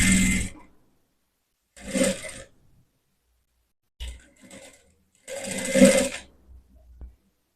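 Sewing machine running double stitching on a blouse, in four separate short bursts of whirring with quiet pauses between them.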